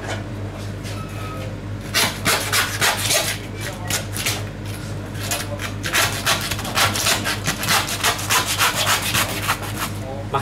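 A saw rasps back and forth through pork ribs, meat and bone, in steady, close strokes that grow faster and more insistent toward the end.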